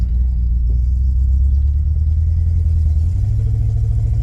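Avanti car engine with a misfire, a loud, close, low rumbling idle or cruise whose pitch wavers and stumbles, stepping up in tone near the end.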